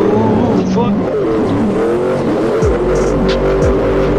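A 2002 LS-1 Camaro with drift suspension in the Assetto Corsa racing game revs hard with squealing tires and sliding, loud and continuous, while someone talks over it.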